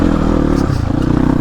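A motorcycle rides off-road, its engine giving a loud, close, rough drone that dips and shifts pitch slightly, with faint clattering over the top and no voices.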